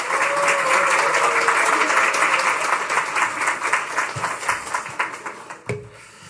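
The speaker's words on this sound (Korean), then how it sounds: "이영주 목자님 나오실 때 큰 박수 부탁드립니다" Church congregation applauding in a worship service: loud, sustained clapping from many hands that holds steady for about five seconds, then thins out into scattered claps and fades.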